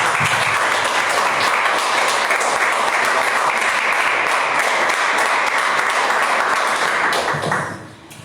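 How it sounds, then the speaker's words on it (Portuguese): A church congregation claps together during a Sunday family worship service, sustained loud, dense applause lasting several seconds before tapering off near the end. "Podemos louvar o Senhor com as nossas palmas?"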